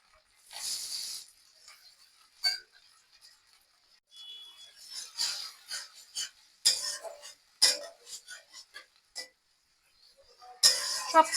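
A utensil stirs chepa fish and pumpkin curry in a pan with water, producing intermittent scraping and clinking strokes, quiet and close, with gaps between movements.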